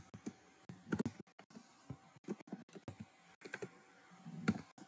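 Typing on a computer keyboard while entering text in Microsoft Word, a quiet near series of irregular clicking keystrokes in short bursts with brief gaps between them.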